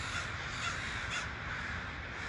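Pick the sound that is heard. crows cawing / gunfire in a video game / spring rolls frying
crows cawing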